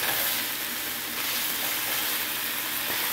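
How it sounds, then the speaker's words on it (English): Minced pork browns with minced onions in a hot pan, giving a steady, close sizzle and crackle with soft scraping, in a minimalist cooking setup in a van. "So just currently cooking up, browning up the meat."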